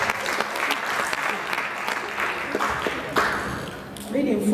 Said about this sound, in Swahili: Pigie makofi tena tafadhali.